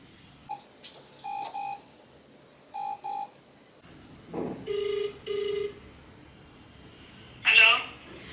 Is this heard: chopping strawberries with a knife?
no